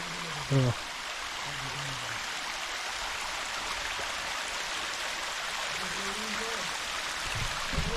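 A monsoon stream flows in a steady, even rush of water heard fairly close, with a brief voice-like sound near the start and no pauses in the flow.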